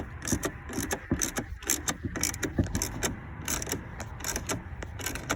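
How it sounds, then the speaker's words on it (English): 10 millimeter socket wrench with one extension ratcheting to tighten a bolt on a car, a rapid, irregular series of clicking pawl strokes, close and continuous with no talk. "I've got my 10 millimeter back on here with just 1 extension. I'm gonna tighten this up."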